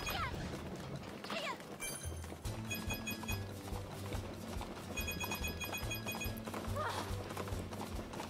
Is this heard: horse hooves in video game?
yes